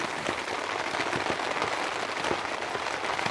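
Steady heavy rain patters on a taut tent roof, a dense close-up drumming of drops with occasional louder splats, no wind, no voices.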